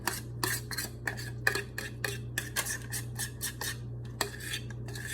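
A spatula scraping gluten-free garlic bread dough out of a mixing bowl, a run of quick, close scratchy strokes in an uneven rhythm over a steady low hum.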